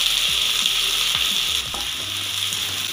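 Two large finely chopped onions fry in oil with cinnamon for a Hariyali chicken dish, giving a steady, loud, close sizzle broken by occasional stirring scrapes, with no talking.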